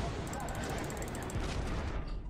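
Naval gunfire in the World of Warships video game, a dense continuous barrage of booming, crackling shots filling the whole stretch at steady loudness, with a voice mixed in underneath.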